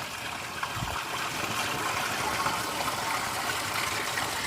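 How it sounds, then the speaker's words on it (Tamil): Water gushes steadily out of an opening after its cover is lifted, a continuous rushing, splashing flow that holds at an even level without pause. "தண்ணி அப்படியே இறைக்குது."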